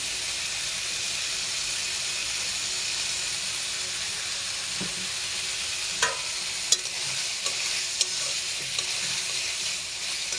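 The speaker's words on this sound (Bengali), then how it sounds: "মাংস আর আলু ভেজে নেব, যাতে একটু রস না থাকে।" Meat and potatoes frying with soy and tomato sauce in a pan, a steady broad sizzling hiss held close, with a few light scrapes and clicks from stirring in the latter half and no talking.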